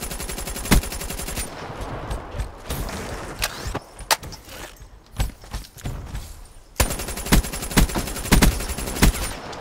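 Rapid bursts of gunfire from a weapon in Black Ops 3, loud clustered shots with brief gaps and a long sustained volley near the end, alone without talk.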